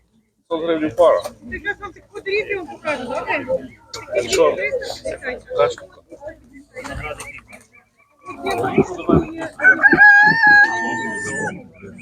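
Roosters crow and hens cluck amid a busy Ukrainian animal market, with several people talking over the birds throughout.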